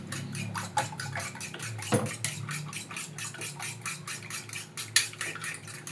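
A utensil stirring breakfast ingredients and syrup in a bowl: steady rhythmic scraping and clinking strokes, close and clear, with a few sharper knocks against the bowl and no talking.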